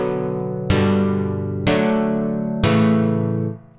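Three plucked acoustic guitar chords built from FL Studio stock plugins, each struck cleanly about a second apart and left to ring and decay, with no voice over them.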